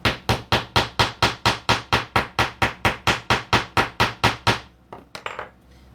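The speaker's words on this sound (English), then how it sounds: "Did I need to hammer that many times?" About twenty even, rapid hammer blows strike a metal keyring being made for a Flag Day project, loud and close, then a few lighter taps and scraping at the end.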